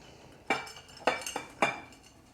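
Diced green onions and other ingredients being mixed in a bowl, three sharp utensil clinks against the bowl at even intervals over quiet background.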